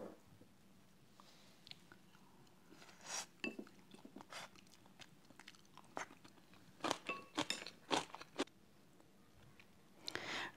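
Chewing of a mouthful of rice with traditional Korean napa cabbage kimchi, close and crunchy, with irregular bursts of wet crunching and a faint clink of dishes, and no talking.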